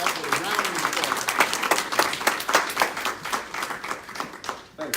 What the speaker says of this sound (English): let us bring Mr. Steve Peterson, our president of the state chapter, up with a round of applause